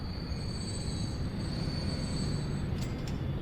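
A train in the Transport Fever game rolls along steadily with a continuous rumbling hum and a high, sustained wheel squeal, ending in a couple of brief metallic clicks near the end.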